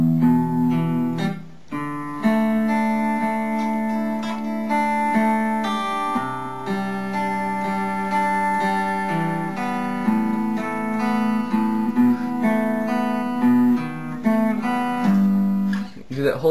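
A slow guitar riff, single plucked notes ringing out one after another, clear and close, with a brief pause near the start and no talking.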